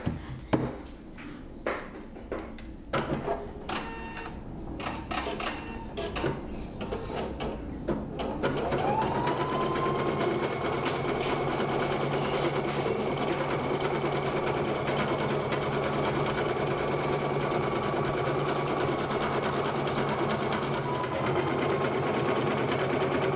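A Husqvarna Viking Designer Epic sewing machine stitching an embroidery design, first with a string of irregular clicks and adjustments, then settling into a long, steady mechanical whir that runs to the end of the clip.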